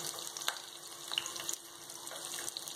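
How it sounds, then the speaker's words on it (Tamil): Onions frying in oil in a pan as the tempering base for a Tirunelveli-style fish curry, a continuous crackling sizzle with scattered sharp pops, fairly quiet, no voices. "வெங்காயத்தை எடுத்து எண்ணெயில் போட்டுட்டோம்."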